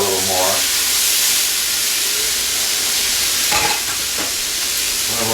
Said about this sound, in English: I'm going to lower the heat now and dump in the pasta